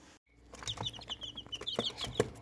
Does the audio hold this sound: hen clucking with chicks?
yes